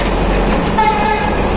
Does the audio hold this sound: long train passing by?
yes